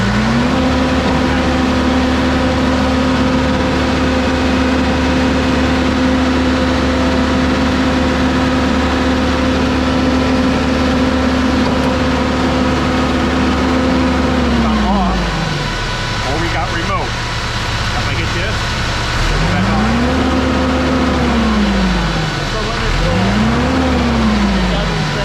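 Mayco LS600 concrete line pump engine holds a steady loud drone, then drops and revs up again in a couple of rising and falling sweeps near the end, with talk over it.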